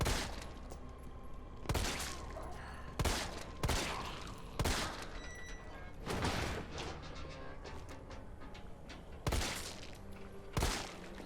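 Resident Evil 3 Remake gunfire rings out in sharp, loud shots, about ten spaced irregularly with short echoing tails and quiet gaps between them.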